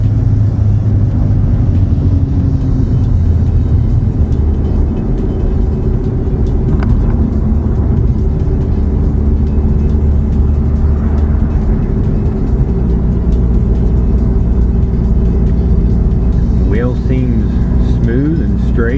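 A Hyundai Genesis Coupe bought at a salvage auction is driven, a loud, steady engine and road drone heard from inside the cabin while someone talks over it.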